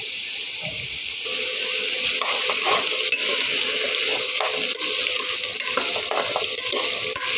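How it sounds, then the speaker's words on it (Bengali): Vegetables frying in a pan, a loud, continuous close-up sizzle with scraping stirs and bright crackle throughout, and no voices. "আগে সবজিগুলো ভেজে নিতে হবে"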